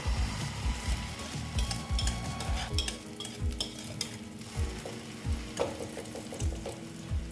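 An ingredient goes into hot oil in a pan while cooking egg and boiled potato dhoka dalna, producing a continuous close sizzle with rhythmic scraping stir strokes repeating throughout.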